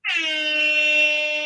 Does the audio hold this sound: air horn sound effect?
yes